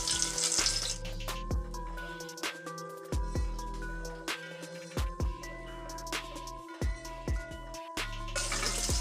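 Garlic and curry leaves sizzle in a pan with sharp crackling pops and a hiss that rises and falls, close and fairly quiet, with scattered clinks and handling noises.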